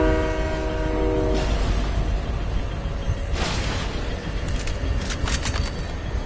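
A train horn sounds loudly from onboard a moving train, starting with a sustained blast and followed by rumbling wheels and car noise, with a few short tonal bursts later on.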